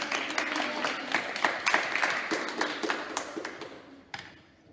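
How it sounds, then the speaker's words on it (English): A school leavers' assembly audience claps for an award winner, a dense, fairly close round of applause with sharp individual claps that thins out and stops near the end. "let's give a round of applause for Ellis."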